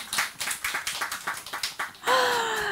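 A church congregation claps in a brief burst of quick, uneven hand claps for about two seconds, then a sustained tone follows as the clapping stops.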